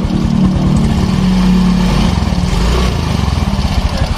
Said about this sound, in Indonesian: ini saat dinaikin RPM di gas, ini akan kedengar suaranya.